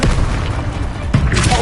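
Confringo explosive spell blasts in the Hogwarts Legacy video game, a dense booming rumble with a sharper thud about two-thirds through, loud and close amid busy combat noise.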